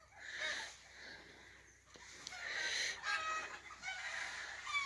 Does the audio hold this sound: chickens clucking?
yes